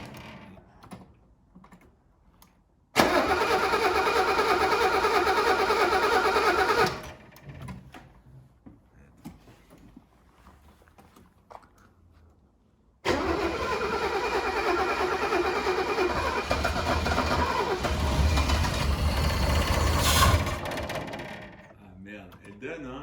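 Old Mercedes W126 280SE or Alfa Romeo GTV engine being started after ten years: two long bursts of starter cranking, the second running into a rough, uneven catch, close and loud with quiet gaps between.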